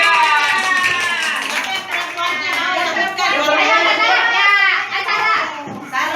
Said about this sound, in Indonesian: Tepuk tangan untuk Aswat.